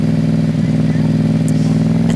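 A loud unmuffled motorcycle engine idles and revs on a Paris street, a steady close rumble that rises briefly, with a voice talking over it.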